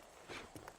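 Horse hooves clip-clopping in the western video game Red Dead Redemption, a few quick, faint hoof strikes heard alone.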